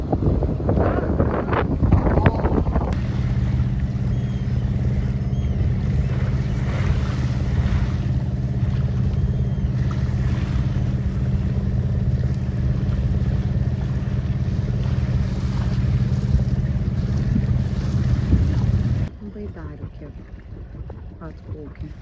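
A sailboat pushes into the wind: a strong steady rush of wind and water hiss with low rumbling, ending abruptly into quieter ambience.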